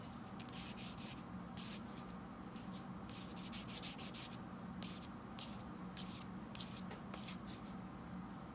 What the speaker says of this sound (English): so sand it out